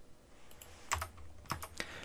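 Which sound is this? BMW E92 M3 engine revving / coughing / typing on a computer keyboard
typing on a computer keyboard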